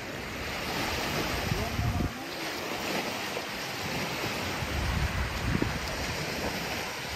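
Ocean waves wash onto a beach at high tide in a continuous surf roar, with wind buffeting the microphone and faint voices underneath.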